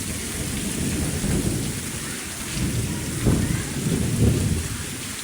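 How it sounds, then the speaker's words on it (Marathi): Heavy unseasonal rain pours steadily in the Konkan while deep thunder rumbles roll through, swelling twice toward the end. "खूप असे जोरात गडगडत आहे"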